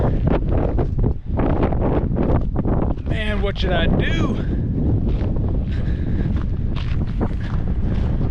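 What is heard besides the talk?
wind on a mountain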